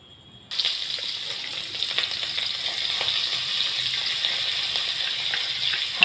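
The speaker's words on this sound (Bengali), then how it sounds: "এই সাদা তেলের মধ্যে আমি পেঁয়াজ দেবো। এবার পেঁয়াজ ভাজবো।" Chopped onions sizzle and crackle steadily in hot white oil, the frying starting abruptly and holding an even hiss with scattered pops throughout, close and alone with no voices.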